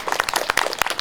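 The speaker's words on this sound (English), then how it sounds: "Let's give them a round of applause." Outdoor crowd applause at a Lunenburg Pride event, a short dense burst of many hands clapping at moderate distance with no talk over it.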